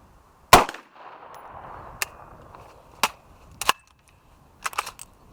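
Sharp, close gunshots ring out one at a time, heard through a Peltor ComTac helmet headset: a strong first shot followed by several quieter cracks and clicks spaced over a few seconds against near silence.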